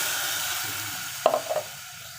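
Ground masala paste dropped into hot tempering oil in a Malvani-style usal, a quiet steady sizzle broken by a sudden splatter and a couple of short stirring scrapes midway, no voices.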